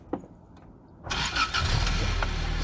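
A 34-year-old Toyota MR2 AW11 engine cranks and catches about a second in, after near silence. It then settles into a steady, close idle.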